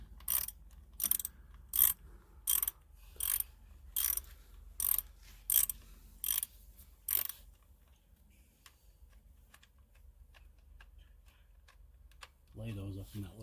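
A hand ratchet clicks in about a dozen short, evenly spaced bursts while loosening intake manifold bolts on a 5.3-litre Chevy Silverado 1500, close and crisp, then quiet before a voice speaks at the end.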